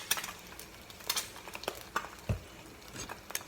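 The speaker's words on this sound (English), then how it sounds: "And now you start mixing it, you know, shaking it up." Scrambled eggs being stirred in a pan over a gas flame give scattered scrapes and light clinks of a utensil against the pan, irregular and fairly quiet, with one duller knock partway through.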